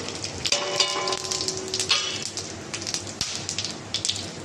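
A Bengali spice paste mixed with sour yogurt hits hot oil and sizzles loudly and close, a dense crackling spatter with sharp pops throughout the short moment.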